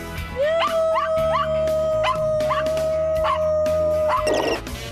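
A Pekingese-poodle cross dog sings in a long sustained howl that holds one steady pitch for about four seconds, with yelping, wavering vocal bursts rising over it at intervals, loud and close.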